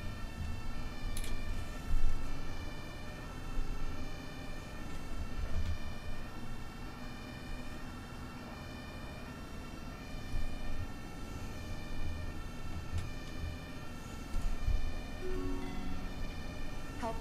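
Several ambulance sirens in the bus simulator game OMSI 2 wail together at a crowded intersection, a loud continuous layered warble with rising and falling tones that fills the whole stretch.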